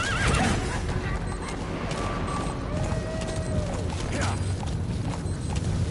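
A horse in the video game Metal Gear Solid V lets out a loud, wavering whinny close by, followed by quieter snorts over a steady background of game ambience.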